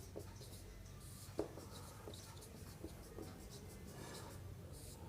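Chalk or marker strokes on a classroom board, a steady scratching and rubbing with a sharper tap near the start, close and fairly quiet, with no one talking.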